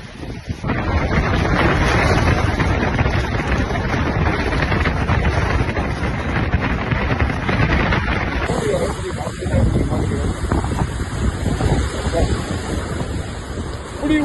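Strong cyclone wind and pounding sea waves at the Pamban bridge, a loud, continuous roar of gusts buffeting the microphone over crashing surf throughout.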